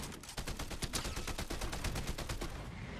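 Rapid automatic gunfire during a Fortnite fight, a steady run of evenly spaced sharp shots rattling continuously for a few seconds at moderate loudness, with no talking.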